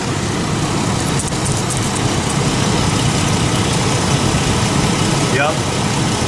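A 1999 GMC Jimmy engine idling unevenly after a cold start, a steady close low rumble with a slightly lumpy, rough quality throughout.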